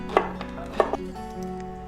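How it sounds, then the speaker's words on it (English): A kitchen knife slices celery on the diagonal into thin slices, giving a few light, close taps of the blade on the cutting board against a steady background hum. "Also cut celery at a diagonal into thin slices."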